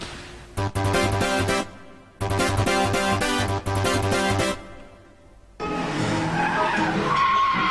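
Cars sliding through drifts and spins, 1989-era Japanese drift footage: loud sustained tire squeals and engine roar in long bursts, a brief lull, then another harsh skid with screeching rubber.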